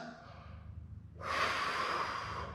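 Heavy breathing during a bodyweight mobility exercise, steady close inhales and exhales that swell louder and breathier halfway through, alone without talk.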